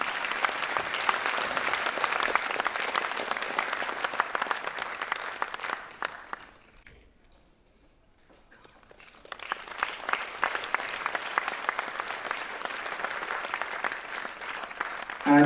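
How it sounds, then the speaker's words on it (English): Audience applause at a school celebration, a dense crowd of clapping hands that dies away to near silence for a couple of seconds, then rises again into sustained clapping. "Round of applause, please."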